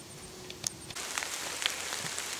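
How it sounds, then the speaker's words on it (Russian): Rain starting in a forest during mushroom picking, a soft patter of drops on leaves that thickens after the first second, faint and steady with a few sharper taps. "Вот начался обещанный МЧС дождь."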